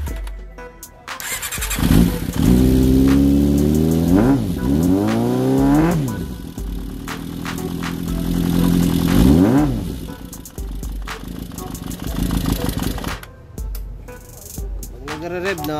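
A Yamaha XJR400 motorcycle engine with a charging fault revs up and down repeatedly, loud and close, each rise in pitch falling back to a rough idle, with brief clattering in between.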